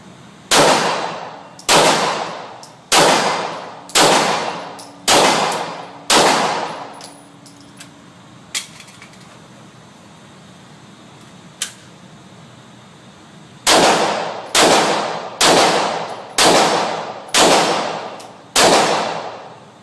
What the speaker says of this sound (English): you will fire 6 more rounds from the kneeling position in 10 seconds